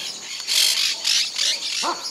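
Parrots nesting in a palm tree in Esperanza, Santa Fe, Argentina, squawk harshly in a quick burst of loud, raspy screeches, close by and overlapping, with no voices.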